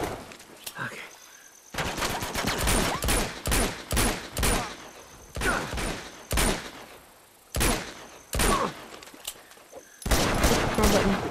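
Sustained gunfire in the Uncharted 2 video game, loud dense bursts and volleys that keep stopping and restarting over about eleven seconds, with short gaps between the rattling clusters.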